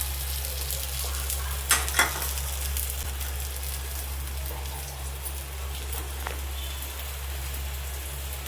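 Holige, a sweet stuffed flatbread, frying in oil on a hot pan: a steady soft sizzle with a low hum under it and a few crisp pops and crackles near the start, no talking.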